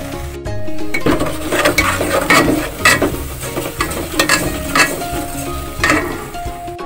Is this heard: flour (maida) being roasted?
yes